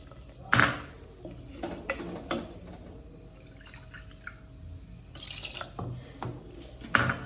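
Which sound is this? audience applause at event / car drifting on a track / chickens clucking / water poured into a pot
water poured into a pot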